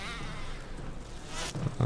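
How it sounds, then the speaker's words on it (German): Bees or wasps buzz steadily through a Resident Evil 1 game scene, a low continuous insect drone with a brighter burst near the end. "hoffe, dass die Bienen weg sind, die wir da hier vor kurzem freigelassen haben. Oder Wespen"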